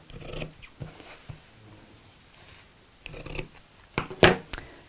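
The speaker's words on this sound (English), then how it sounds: "push through my scissors and cut into the corners" Several sharp scissor snips cut through denim fabric close up, spaced irregularly with quiet rustling between, the last few louder and crisper.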